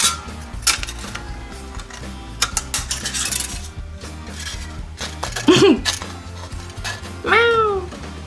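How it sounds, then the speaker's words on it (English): Scissors cut through a thin metal pen can, giving sharp metallic snips, crunches and clinks in an irregular sequence, close up, with a cat meowing twice toward the end. "I'm going to cut this out with my nasty scissors"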